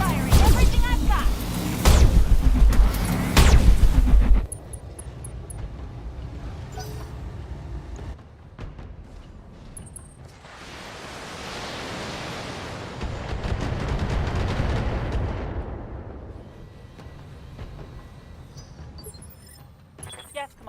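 Mech weapons fire in a BattleTech mod video game, a few heavy, loud booming shots up front followed by a long rumbling blast and softer distant impacts.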